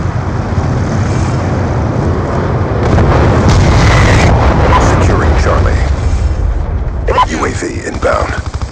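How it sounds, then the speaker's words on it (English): Hellstorm missile explosions in a multiplayer shooter domination match: heavy booming blasts and rumble over constant loud battle noise, with game voice callouts throughout. "Hellstorm missile inbound."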